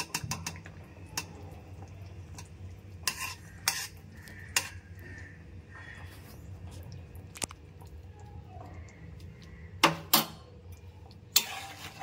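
A spoon stirring a pointed gourd curry with ghee and garam masala in a pan, with intermittent metallic clinks and scrapes against the pan over a low steady hum, plus a few louder knocks near the end.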